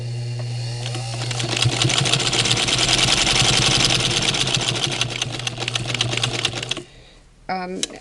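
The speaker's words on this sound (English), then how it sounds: "now I'm at the point where I'm going to do the top stitching, and I'm using a bright yellow thread" An antique sewing machine top-stitches a fabric face mask, running as a fast, steady mechanical whir and clatter for about seven seconds before stopping, followed by a few brief clicks and knocks.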